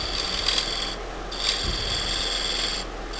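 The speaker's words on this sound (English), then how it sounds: "So I just keep scraping this away like so and around my edge." A turning tool scrapes a winged wooden burl bowl on a lathe, producing a continuous close rasping hiss that swells and fades in several passes over a steady low hum.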